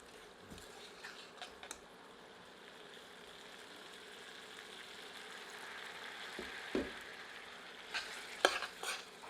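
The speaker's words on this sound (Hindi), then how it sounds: "इसे पुनः 5 मिनट और भूनेंगे" Masala for a peri peri goat curry sizzles and fries steadily in a pan over medium-low heat. A ladle stirs it now and then, giving a few scraping clanks, with no talk.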